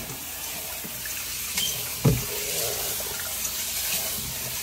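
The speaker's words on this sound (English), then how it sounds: "We are just going to wash it with warm water until the water gets clear." Basmati rice being rinsed in warm water, a soft continuous wash of water with gentle sloshing and one brief louder splash midway, no talking.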